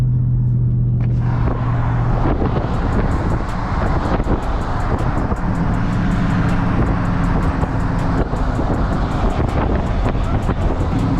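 A Dodge Charger 392 Scat Pack accelerates hard in a race against a BMW, its engine roaring loud and constant under heavy wind rush, with a rapid train of clicks or ticks running through the noise.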